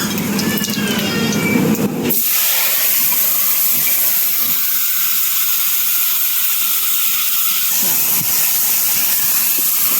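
Two dried red chillies and cumin seeds fry in hot oil for a fish curry, giving a loud, steady, close sizzle that bursts in suddenly after a quiet start and carries on without pause.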